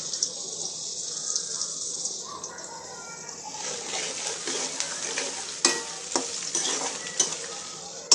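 Onions sautéing in a pan for a pabda fish curry with vegetables, a steady bright sizzle broken by scraping stirs and a few sharp knocks of the spoon against the pan near the end.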